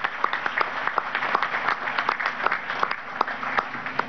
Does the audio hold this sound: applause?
yes